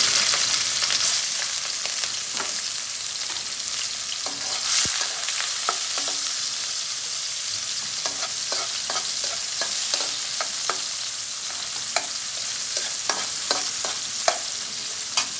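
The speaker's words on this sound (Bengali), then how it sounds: "তেলটা একটু গরম হোক গরম হওয়ার পরে পেঁয়াজ দিব এতে দিচ্ছি পেঁয়াজ" Chopped onion fries in hot oil for a koi fish curry, giving a steady, close sizzle and hiss broken by scattered clicks and scrapes of stirring, with no talking.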